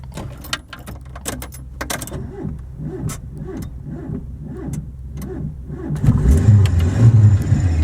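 A Sunbeam Alpine car engine with a failed head gasket cranks, catches into a few uneven revs, then cuts out and stalls. Close and fairly loud, with handling noises and clatter before it fires.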